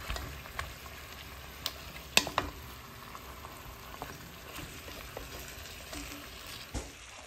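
Chicken with fish sauce for tinola is stirred in a pot, giving a steady low sizzle with scattered sharp clinks and scrapes of the spoon against the metal.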